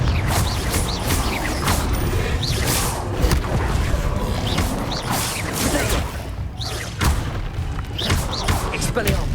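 Confringo fire-blast spells go off again and again in Hogwarts Legacy combat. Loud thuds and booming impacts come in an irregular rhythm, along with mechanical clatter and creaks, under the busy sound of the game.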